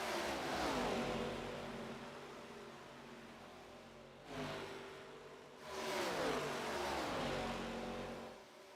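Race cars in an iRacing game at Daytona in an ARCA series race drone and rev in a steady engine roar that dips briefly and then surges back, with no talk.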